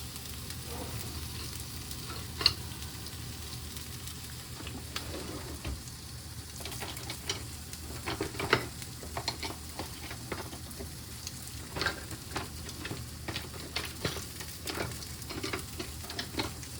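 Leftover steak taco tortillas warm and brown in a hot pan, giving a low continuous sizzle dotted with sharp crackles and the clicks of a spatula moving them, all fairly quiet and close.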